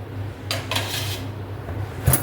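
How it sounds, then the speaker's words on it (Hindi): Dishes and utensils handled in a home kitchen after making parathas, a few brief clinks and clatters over a steady low hum, fairly close and moderately loud. "ये बर्तन ले जाके बाहर रख देती हूँ"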